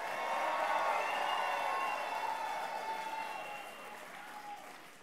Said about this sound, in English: give yourselves a round of applause and make some noise